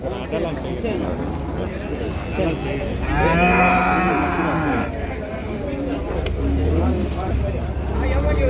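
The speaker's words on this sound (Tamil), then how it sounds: "சூப்பராக ஒரு பசு ஒன்று இருக்குது பாருங்க" A cow at the Vaniyambadi cattle market lets out one long, low moo that rises in the middle of steady market bustle, with people talking nearby throughout.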